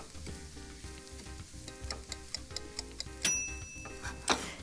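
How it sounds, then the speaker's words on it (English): Panko breadcrumbs toast in a pan under a soft, steady sizzle, with a regular series of light ticking taps from tossing and stirring and a brighter metallic clink near the end. "I'm just gonna toss them together and just saute it for about 3 minutes"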